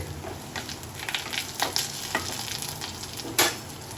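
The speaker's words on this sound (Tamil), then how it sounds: "இப்போ பாருங்க வெங்காயம் வதங்கிக்கிட்டு இருக்கு." Onions sautéing in a pan for a dhaba-style okra curry, a steady close sizzle and fry with scattered crackles and stirring scrapes, no voices.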